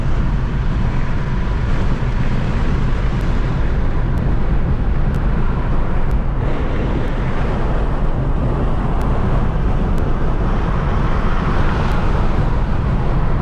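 A car driving on a road, heard from inside as a loud, steady broadband roar of engine and tire noise that holds without a break, with no talking.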